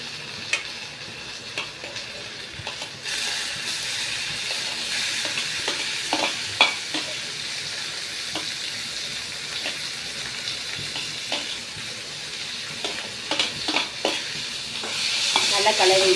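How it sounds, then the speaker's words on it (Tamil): Onions sauté in a pan, a steady close sizzle broken by repeated scraping strokes of a spoon stirring them, with no talking over it. "எல்லாம் போட்டு வதக்கிக்கலாம். வெங்காயம் போட்டுக்கலாம்."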